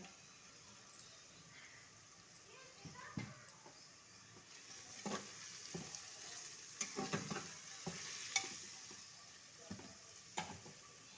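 Sliced tomatoes frying in a pan for chicken pulao, a steady soft sizzle with occasional stirring clinks and scrapes, moderately close.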